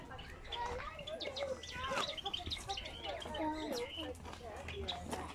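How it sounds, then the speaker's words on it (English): Java sparrows at a rare breeds farm aviary, with cockatiels nearby, chirp in busy overlapping tweets, close and fairly loud, alongside other bird calls and faint voices in the background. "Java sparrows."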